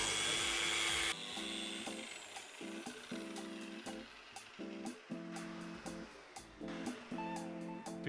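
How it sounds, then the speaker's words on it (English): Freshly applied microcement paste on a wall is worked with a power sander, whose whirring motor starts and stops in short repeated bursts with brief pauses between passes. "I'm going to sand this paste that I just applied."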